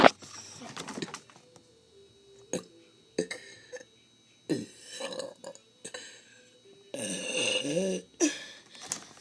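Several big, throaty burps come in separate bursts with short pauses between them, the longest and loudest near the end, close-up with no talking.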